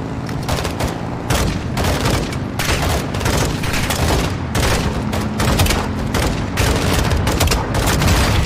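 Dense, continuous battle noise from Call of Duty: Modern Warfare 2, with repeated heavy grenade launcher booms and bursts of gunfire, loud and sustained throughout with no pauses.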